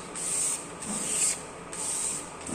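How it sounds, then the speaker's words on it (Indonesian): Grade 400 sandpaper rubbed back and forth under light pressure, a close, steady hiss in about four even strokes with no other sound. "kita amplas kembali menggunakan kertas amplas grade 400"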